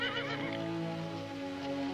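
Horses neighing in an outdoor farm scene from a Disney drama, a rough, wavering whinny heard close over a steady background hiss like rain.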